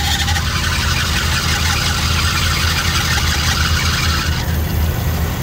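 A 1987 Cadillac with a 5.0 engine runs smoothly at a steady idle, giving a continuous low rumble with even hiss, loud and close throughout with no voices.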